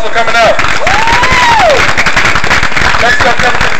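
An audience at an outdoor justice rally breaks into applause, a dense wash of clapping and crowd noise with whistles and shouts cutting through, steady and loud throughout.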